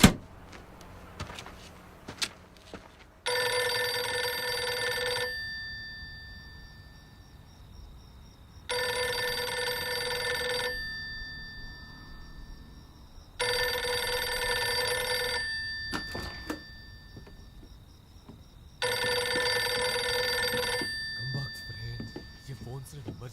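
An old-style telephone bell rings in four long bursts separated by pauses, loud and close, with faint background noise between rings.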